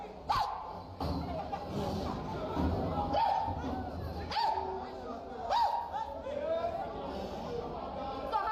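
A crowd of people imitating dogs, several loud barking yelps scattered over a few seconds amid noisy chatter and voices.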